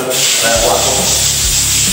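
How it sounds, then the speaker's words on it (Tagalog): Sandpaper rubs across wood in a single direction, producing a loud, close, continuous rasping hiss with slight surges as strokes repeat; a brief voice hum sits low beneath it. "Kung dapat pag nagliha kayo, diretso lang siya."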